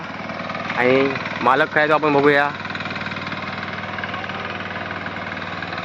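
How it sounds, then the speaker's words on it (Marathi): Tractor engine running in a rice field, a steady low mechanical drone throughout, heard at moderate distance under someone talking near the start. "ट्रॅक्टर फिरता"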